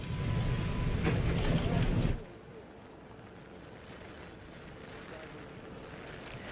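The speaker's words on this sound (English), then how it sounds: "it is really getting windy." Loud, roaring storm wind buffets the microphone for about two seconds, then drops to a steadier, quieter rush of gusty air outdoors.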